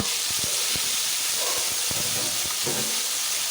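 Ginger and green chili paste sizzling in hot oil in a pan, a steady loud hiss with scattered crackles and spits throughout, no voices.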